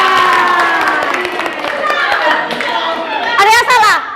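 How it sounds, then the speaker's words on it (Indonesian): A classroom of students clapping their hands together in a lively burst, with children's voices shouting and cheering over the applause and a louder flurry near the end. "Tepuk tangan untuk kita semuanya."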